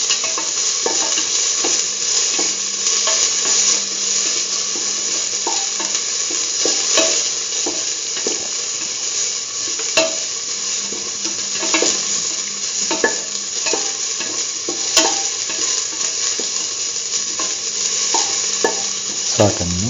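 Onion pieces sauté in a pan with a steady broadband sizzle and frequent scrapes and clicks of a utensil stirring them, close and continuous for the whole stretch, with no talking.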